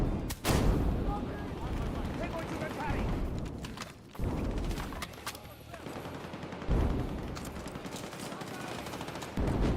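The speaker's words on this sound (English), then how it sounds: "That grenade went off." A grenade explosion and gunfire in a video game, heavy booming blasts and rattling shots landing in several separate bursts, with a person talking over the fighting.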